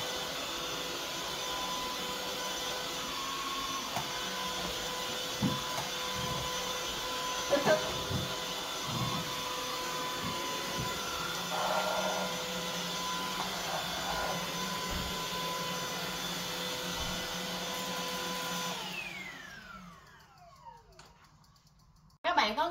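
An Electrolux cordless vacuum cleaner runs steadily with a continuous whirring drone, close and fairly loud, with faint handling knocks, before cutting off abruptly near the end.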